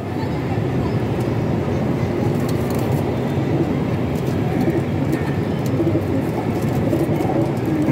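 Pigeons in a pigeon loft, soft cooing and rustling under a steady noisy background, with faint people talking nearby throughout.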